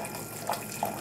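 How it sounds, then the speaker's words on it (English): Hot water pours from a water heater dispenser into a vessel of dried Chinese herbs for tea, a soft, steady trickle close by with two brief splashy spurts. "So I'm just going to dump hot water into here."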